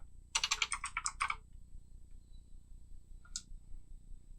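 Quick bursts of typing on a computer keyboard, a rapid cluster of crisp key clicks followed by a pause and one more isolated keystroke, fairly faint in a quiet room.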